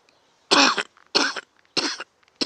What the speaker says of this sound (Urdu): پتہ نہیں یہ کھانسی ختم کب ہو جائے گی